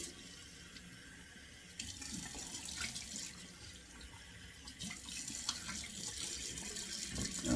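Cold water runs steadily from a sink faucet into the basin, a continuous close splashing stream that grows slightly louder toward the end, with no talking.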